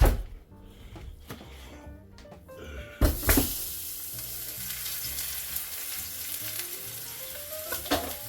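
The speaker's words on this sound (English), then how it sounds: "our Ninja is hot, maybe too hot, but we are going to sear our roast." Beef roast searing in a very hot Ninja Foodi XL, a loud burst of sizzling and spattering that starts abruptly and holds steady, with a few clanks of utensils at the pot.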